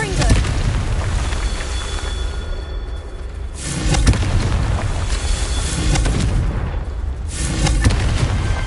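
Confringo fire spell explosions in the video game Hogwarts Legacy: repeated heavy booming blasts with rumbling low end, several sharp bursts spaced a few seconds apart over a continuous loud roar.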